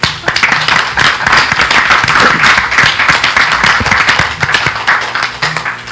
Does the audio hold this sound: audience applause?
yes